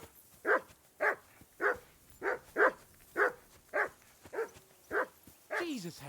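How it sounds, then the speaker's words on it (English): Dog barking in the medieval role-playing game Kingdom Come: Deliverance II, about ten loud, evenly spaced barks repeating roughly every half second to second, close up and clear. "Jesus, Henry, that barking's driving me nuts."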